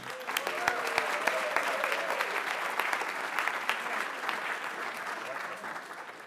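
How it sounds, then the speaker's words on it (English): An audience at the MIT Bitcoin Expo 2019 closing session gives a round of sustained applause, dense clapping from a sizable crowd heard from within the room, with a few faint voices mixed in. "Let's have a round of applause for them."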